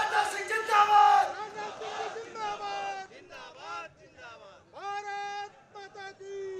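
At a public meeting in Kanker, Chhattisgarh, a rally crowd chants slogans in loud rhythmic bursts, a dense roar first, then repeated call-and-response shouts led by an amplified voice.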